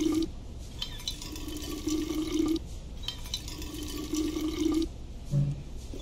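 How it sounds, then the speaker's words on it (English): A canteen filled with water in the game We Happy Few: repeated gurgling, trickling bursts of pouring liquid, close and fairly loud, with short gaps between fills. "let's go ahead, and we'll fill the canteen."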